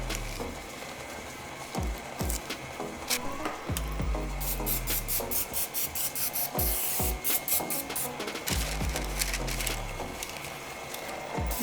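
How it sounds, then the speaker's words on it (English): Cooking spray from an aerosol can hisses in repeated short bursts into a parchment-lined 8x8 or 9x9 square baking pan for lemon bars, close and fairly loud, with pan clatter and handling noises between sprays. "Give it a nice, generous spray of cooking spray, especially in those corners."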